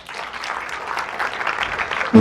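Church congregation clapping during a service, a brisk wash of applause building slightly, ending with a sudden loud voice cutting in.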